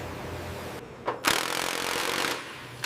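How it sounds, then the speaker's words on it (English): An impact wrench hammers at stuck bolts on an old airport tug, with a short burst followed by a sustained loud, rattling rattle for about a second before it stops. "We'll need the impact wrench for these bolts."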